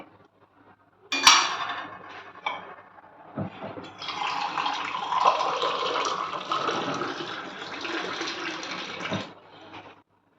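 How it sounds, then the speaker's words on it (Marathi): A clatter of a dish, then a steady stream of cold water pours over cooked hakka noodles for several seconds before cutting off. "यावर मी आता थंड पाणी घालणार आहे"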